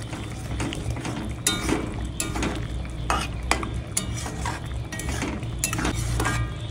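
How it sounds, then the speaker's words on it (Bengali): Curry broth with fried bora fritters being added and stirred in, a steady simmering sizzle with soft clinks and scrapes of a spoon against the pan, no talk. "এখন বড়াগুলো দিয়ে দিলাম।"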